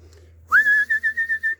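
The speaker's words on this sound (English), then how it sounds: "I have to start whistling at these here now." A person whistles loudly nearby to call cattle, one rising note held then broken into a quick series of five or six short pulsed blasts.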